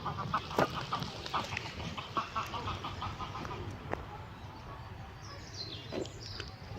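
Ducks and other birds in a park call and quack repeatedly at a moderate distance, a busy mix of squawks and chirps over outdoor background noise.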